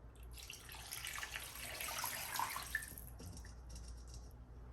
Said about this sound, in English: add 3 cups of water to the remaining season, right? I'm just gonna add it to my cow foot